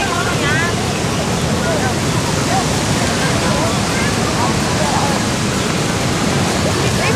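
Strong wind gusts sweep across an open field at a giant dragon kite flying event, making a loud, continuous roaring rush that buries the faint crowd sounds.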